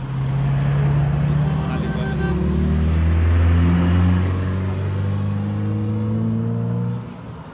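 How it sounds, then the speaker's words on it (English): A vehicle rumbles steadily across a narrow one-lane bridge at the Ondo–Edo state boundary, its engine loud and close, rising and falling in pitch as it moves, then fading slightly at the end. "Another vehicle is coming behind us."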